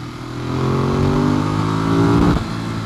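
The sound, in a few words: Ducati Monster 821 motorcycle engine revving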